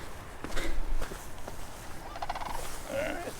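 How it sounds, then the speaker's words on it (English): Crane calling near Trout Lake in Yellowstone on a rainy day, geese nearby; loud rattling, trilling bird calls over steady rain hiss and soft footsteps or handling, the birds unseen but close enough to sound strong. "Oh, it's a crane."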